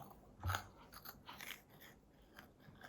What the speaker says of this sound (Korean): 한 개 꼭꼭 다 씹고서 먹어